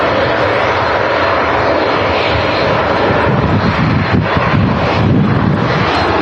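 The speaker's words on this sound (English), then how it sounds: "Ryanair 737 next out." A Ryanair Boeing 737 roars steadily on its takeoff run at Manchester Airport, the loud jet engine noise broad and continuous throughout with some wind buffeting the microphone.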